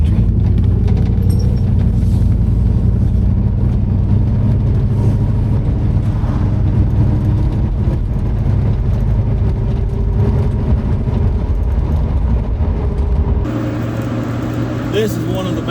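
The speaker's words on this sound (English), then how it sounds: "This is one of the better driving old cars that I've ever had the privilege of sitting in" An old car's engine drones steadily while driving out of a subdivision toward the country, a loud low rumble heard from inside the cabin, continuous for the whole stretch and dropping slightly near the end.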